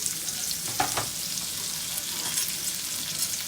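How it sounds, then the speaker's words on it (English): Onion frying in a pan for a stir fry, a continuous moderate sizzle with a couple of brief stirring scrapes early on, no voices. "The first thing I'm going to do is I'm going to add onion."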